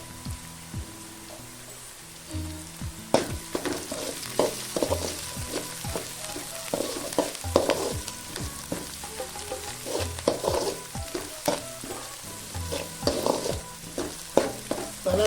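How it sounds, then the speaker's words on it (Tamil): Onions fry and sizzle in a pan for egg fried rice, with steady crackling broken by repeated scraping stirs of a utensil against the pan, close and fairly loud with no talk. "வெங்காயம் பொன்னிறமாக வதக்கிங்க பார்த்தீங்கன்னா இந்த அளவுக்கு வதங்கிடுச்சு"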